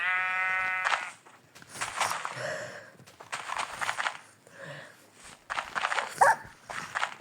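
Sheep bleat at a rural home, one long clear bleat at the start followed by further calls mixed with excited talking and a dog's barks.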